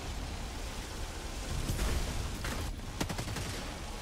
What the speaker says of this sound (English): There goes the mortar